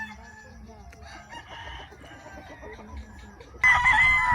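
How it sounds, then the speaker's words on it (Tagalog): Chickens cluck and fowl stir at a poultry farm in Negros, quiet and close, before a loud rooster crow bursts in near the end. "daghan kay mga manok."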